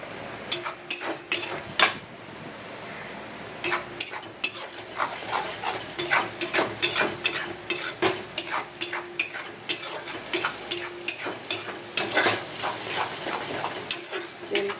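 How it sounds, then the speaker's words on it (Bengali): Food being stirred in hot oil in a pan, with repeated utensil scrapes and clinks over a steady close sizzle, in a fairly busy, irregular rhythm throughout. "ভালো করে নাড়ছি।"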